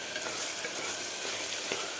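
Tomatoes and onions sizzle steadily in a pressure cooker while being sautéed for pav bhaji, a bright continuous frying hiss with faint stirring scrapes close by and no voices.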